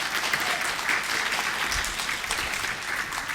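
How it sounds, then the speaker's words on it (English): A festival audience at ArcTanGent applauds in a continuous, crackling wash of many hands clapping, sustained and even throughout without speech over it. "Massive round of applause."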